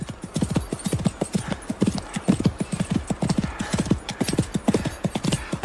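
Horse hooves clip-clop in a fast, steady rhythm during a radio drama ride, loud and close with continuous hoof beats throughout.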